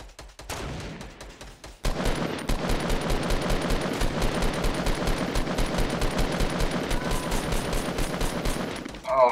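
A few scattered shots in a video game lead into a long, dense, continuous stream of rapid automatic gunfire that stays loud and close for several seconds.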